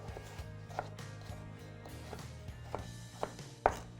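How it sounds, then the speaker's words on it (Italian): A knife dices a peeled potato for lentil soup, a series of soft, irregular chopping taps on a cutting board, quiet and close, with no talking. "E lo taglio a dadini."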